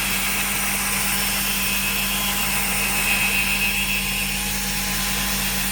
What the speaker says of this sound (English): So I'm just scrubbing it a little bit